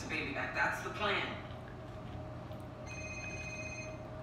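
A telephone rings from an unknown caller in a TV drama, steady tonal ringing in the latter half, preceded by people talking.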